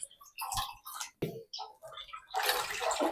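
Two liters of thick, undiluted milk poured out for making kalakand, a continuous liquid rush filling the last half-second after a stretch of talk.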